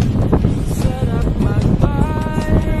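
Loud, continuous wind buffets the microphone while cycling in Bahrain, a rough roar filling the clip, with music playing underneath.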